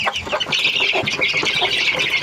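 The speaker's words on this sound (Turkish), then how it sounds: "Tavuk sen bir çekil." A flock of chickens clucks and squawks densely and loudly while being fed, a continuous close chorus of overlapping bird calls with no speech.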